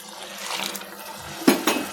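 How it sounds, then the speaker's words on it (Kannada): A brief watery splash and gurgle of hot water being poured onto rice in a pot, close and fairly loud, followed by a second short splash. "ಇದಕ್ಕೆ 2 ಗ್ಲಾಸ್ ನೀರು ಹಾಕ್ತಾಯಿದ್ದೀನಿ."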